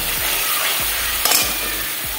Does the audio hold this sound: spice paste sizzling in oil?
yes